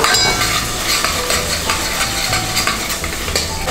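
Onion sizzles with garlic and anchovy in a hot pan, a steady loud frying crackle with occasional scrapes of stirring, close and continuous without talk.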